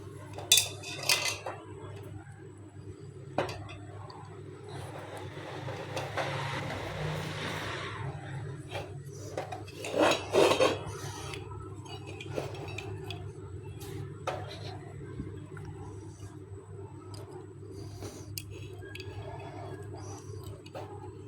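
Metal clips snapping onto both sides of a homemade Peltier cooling base, heard as a scattered series of sharp, close clicks and rattling clatter over a steady low background hum.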